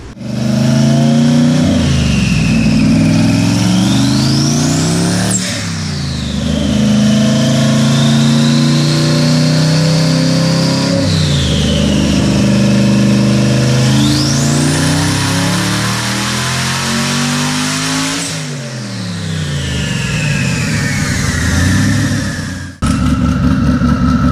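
A turbocharged car on a dyno revs hard in repeated loud pulls, engine pitch climbing and falling back several times with harmonic whine and turbo hiss, ending in an abrupt cutoff.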